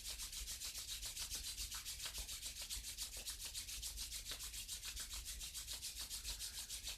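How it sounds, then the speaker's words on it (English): Two palms rubbing briskly together in a quiet yoga and meditation setting, a steady rhythmic swishing friction heard close and alone. "You can rub the palms together."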